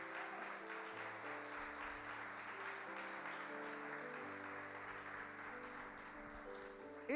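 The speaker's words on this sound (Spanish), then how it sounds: "Vamos a darle un aplauso al hermano." Steady applause from a church congregation, continuous and fairly dense throughout, with music-like tones underneath and no talking over it.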